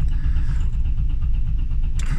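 Car engine failing to start, a loud, close, steady rhythmic churning of the starter turning over without catching, ending with a short higher click.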